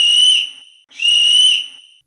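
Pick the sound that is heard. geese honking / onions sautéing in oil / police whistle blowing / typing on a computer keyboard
police whistle blowing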